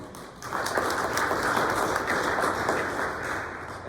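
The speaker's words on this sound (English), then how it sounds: "let's also put a round of applause to Mark and Katie and Hal for their presentation as well" A round of applause for presenters at a school feasibility meeting in a hall, a crowd clapping steadily for a few seconds after a quiet start, then tapering slightly toward the end.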